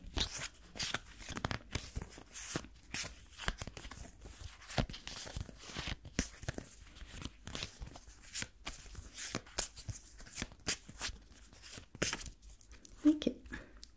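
Small picture cards are shuffled and handled close to the microphone in a soft-spoken ASMR role-play, giving a quiet run of papery flicks, rustles and crinkles in irregular bursts, with a faint soft voice now and then.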